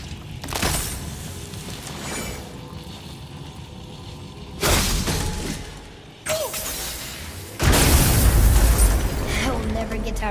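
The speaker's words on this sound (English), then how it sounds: "I will never get tired of shattering things like this." Objects shattering in God of War, with several loud crashing bursts and booms spread over the stretch, the last one heavy and sustained, over a background of game noise.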